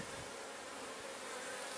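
Honey bees buzz over frames of capped honey during a fall harvest, a steady, soft droning hum with no talking.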